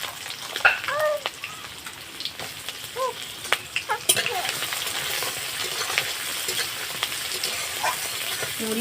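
Chopped onion frying in hot oil in a pan, a continuous crackling sizzle with sharp pops, and a few clinks of the pan early on.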